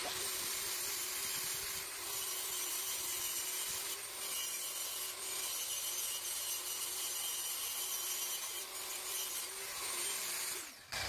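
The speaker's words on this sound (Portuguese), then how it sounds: "eu vou chegar com a minha lixa 1500 até na beirinha do risco aqui" Fine 1500-grit sandpaper rubbed steadily along a cut edge near a marked line while shaping a precise 45-degree joint, a continuous close scratchy rasping with brief pauses and no talking.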